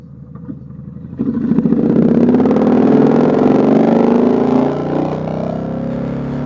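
A 1700cc motorcycle rides on suburban back roads, its engine starting as a low rumble and then swelling into a loud, steady drone that rises in pitch as it accelerates and eases off near the end, with no talking.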